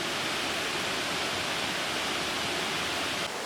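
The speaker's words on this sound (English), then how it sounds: "Lace waterfall." Lace waterfall at the end of the Natural Bridge trail roars as a dense, unbroken rush of falling water, loud and steady throughout with no voices.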